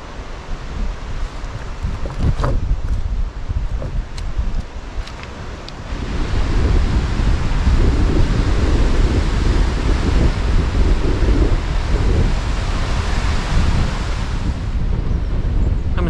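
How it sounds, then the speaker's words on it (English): Strong wind buffeting the microphone at the UK seaside while sea fishing, a loud constant roar that grows heavier after a few seconds and blends with surf, with no talking. "I'm sorry about this wind."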